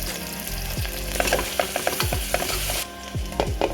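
Onion sliced into hot oil sizzles loudly and steadily, with several sharp stirring scrapes and clinks of a spatula against the pan throughout, no voices.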